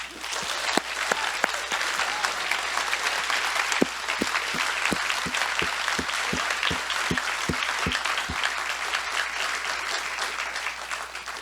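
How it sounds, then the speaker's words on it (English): Sustained audience applause at a climate lab summit showcase, a thick wash of many hands with a few sharp, close individual claps punching through, continuing steadily for over ten seconds without any speech. "they absolutely deserve your applause"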